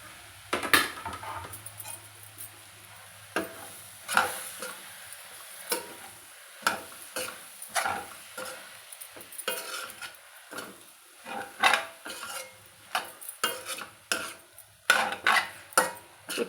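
Chopped tomatoes stirred in a frying pan for a meal maker (soya chunk) tomato curry: repeated close scraping and clattering strokes in an irregular rhythm over a soft, steady sizzle, with no talking.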